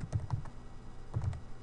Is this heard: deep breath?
no